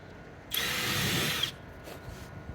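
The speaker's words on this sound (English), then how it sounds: "we'll pre-drill again." One short whirring burst of a power drill pre-drilling into a wooden fence panel, lasting about a second, close by, then quiet.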